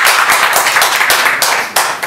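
Loud, close applause from a lecture audience at a Seoul National University talk forum, a burst of many hands clapping with uneven pulses and a brief dip near the end.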